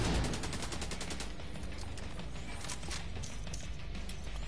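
Turret gunfire in The Division 2: a loud, rapid automatic burst opens, then scattered single shots and impacts continue close by.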